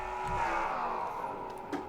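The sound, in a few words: race car engines in a racing video game at Nashville Superspeedway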